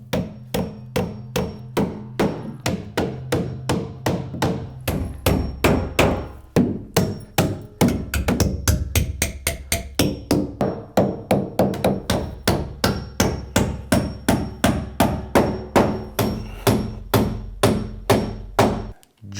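Loud, close hammer blows drive nails into metal joist hangers during construction of a mudroom closet and bench seat, striking in a steady, rapid rhythm of dozens of sharp impacts with no talking.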